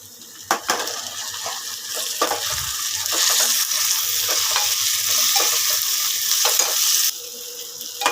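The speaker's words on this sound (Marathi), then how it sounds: "कांदा आणि टॅमॅटो चांगला परतून झाला आहे" Onion and tomato sautéing in a pan for a spicy dried-fish dish, a loud, steady frying hiss with frequent clinks and scrapes of a spoon against metal, then the sizzle drops off near the end.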